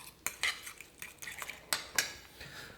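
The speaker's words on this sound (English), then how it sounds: "Let's get this stirred in a little bit better." A spoon stirs vegan potato ball mixture in a metal pot, giving a run of close, bright clinks and scrapes in uneven bursts with short quiet gaps between.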